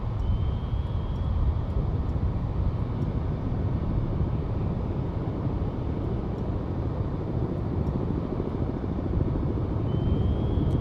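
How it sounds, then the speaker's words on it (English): A helicopter in a submarine combat video game, heard as a steady, loud low rotor and engine drone that holds without a break throughout, with faint high whines above it. "That helicopter has us dead to rights."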